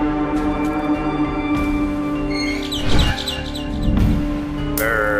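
Chirping bird calls from the Garten of Banban video game, a few bright tweets layered over a steady droning game background.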